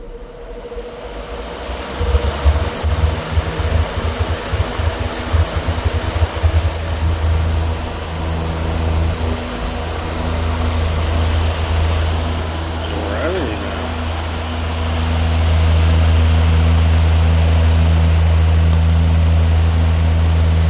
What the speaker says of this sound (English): that's a powerful fan.